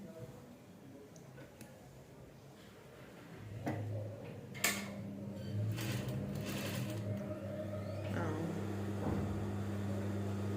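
A sewing machine stitches the lining of a child's ball gown. Quiet ticking comes first, then a steady motor hum sets in with a few sharp clicks over it, fairly close and unbroken.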